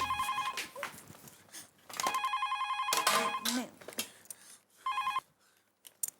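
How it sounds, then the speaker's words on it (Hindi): An old-style telephone bell rings in several bursts separated by short pauses, loud and close, with no other sound between rings. "फोन"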